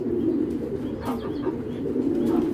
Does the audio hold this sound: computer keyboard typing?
no